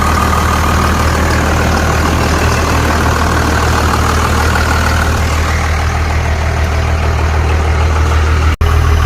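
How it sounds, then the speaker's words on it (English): A diesel truck engine idles loud and close with a constant low rumble, running steadily for several seconds before a sharp click near the end; no talking. "These are the best sounding trucks, diesels ever"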